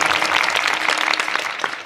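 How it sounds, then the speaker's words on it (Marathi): A kirtan audience claps together in a brief, dense burst of applause that stays loud and even throughout, with no voices standing out. "करे गुरुजीसाठी जोरदार टाळी होऊन जाऊ."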